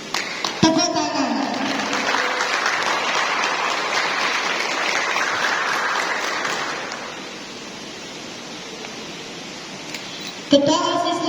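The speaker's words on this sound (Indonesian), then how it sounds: "Tepuk tangan." Audience applause at a school orientation closing ceremony, a broad wash of clapping for several seconds that fades into quieter room noise, with a voice cutting in briefly at the end.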